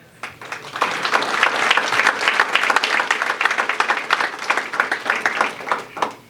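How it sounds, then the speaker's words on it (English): An audience at a government announcement on North and South Omaha economic recovery grants claps loudly in a dense, steady round of applause lasting several seconds, then fading. "we should all give us a round of applause"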